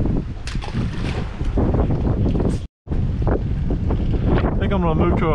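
Strong wind buffets the microphone outdoors on a fishing trip, a loud continuous roar broken by a brief dropout partway through, with a voice talking over it near the end.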